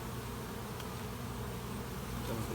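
A honey bee colony at an open hive, recently built out on fresh comb after feeding, hums in a steady, dense, continuous buzz that stays close and fairly quiet throughout, with no voices.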